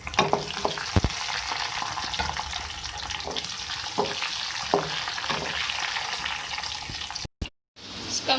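Black peppercorns and cumin seeds sizzling in hot oil for a dal tempering, a loud, close, continuous crackling fry with scattered pops and a brief dropout near the end.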